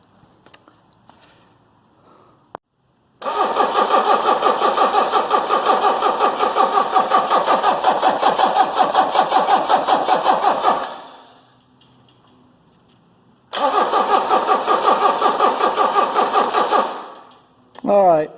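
A rebuilt Mercedes OM617 diesel engine is cranked by its starter in two long, rapid rhythmic bursts separated by a pause, loud and close, with a brief sound at the very end.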